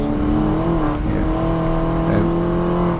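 A 2018 Mini Challenge Cooper S race car on a wet Brands Hatch circuit, its engine roaring loud and close under power, pitch shifting with a gear change, no voices.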